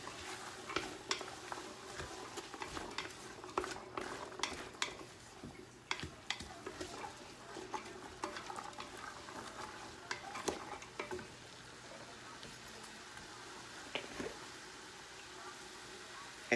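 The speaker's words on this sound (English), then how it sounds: "So now we're going to go ahead and put in the celery." Onions and celery sauté in a soup pot, a soft sizzle broken by scattered clinks and scrapes of a spoon stirring against the pot, fairly quiet and close.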